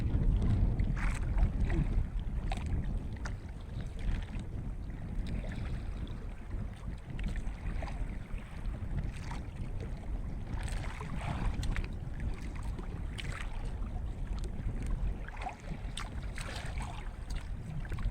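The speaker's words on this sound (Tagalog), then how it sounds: "Medyo malakas-lakas na naman ang hangin." Steady gusting wind buffets the microphone outdoors near water, a continuous rumbling roar with occasional bursts.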